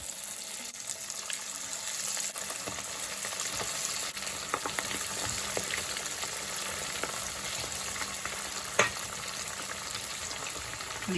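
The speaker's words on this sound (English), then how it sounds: "So I'm going to be frying another batch of chicken here." Chicken wings for crispy buffalo wings sizzle steadily in hot oil, a continuous close crackling hiss with scattered pops and one sharper spike near the end, no voices.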